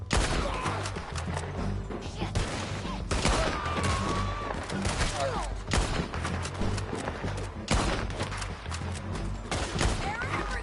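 Dense gunfire from Red Dead Redemption 2 cracks in rapid, overlapping bursts during a shootout, loud and continuous, with shouted voices and whistling ricochets mixed in.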